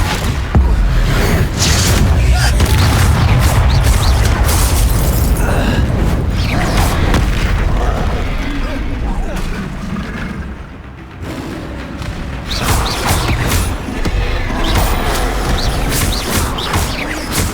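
Confringo spell blasts in Hogwarts Legacy, with loud booming explosions and crashing combat noise rolling almost continuously, easing briefly before swelling again.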